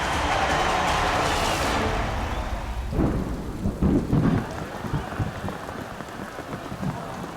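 A thunderstorm at a 2014 Ole Miss college baseball game: steady heavy rain hisses throughout while deep rolls of thunder rumble in partway through, loud and close, with no clear talk.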